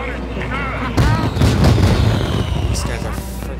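Turrets firing in the Spore video game, a dense run of booming artillery-like blasts starting about a second in and continuing loud and close, with game sounds and a voice partly mixed in.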